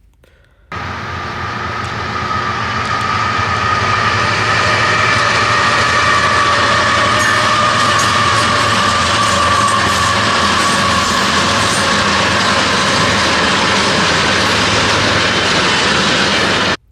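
A long intermodal freight train passes, hauled by five diesel locomotives, as a loud, sustained engine roar and rumble starts abruptly and holds steady throughout, close and alone.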